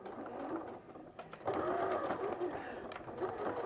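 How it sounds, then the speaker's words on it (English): Domestic sewing machine running steadily while stitching around the binding of a quilt-as-you-go project, a continuous mechanical whirr at moderate level with a voice talking over it. "So I'm just machining round now the binding."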